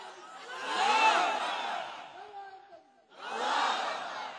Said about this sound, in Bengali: নারায়ে তাকবীর দেন না জোরে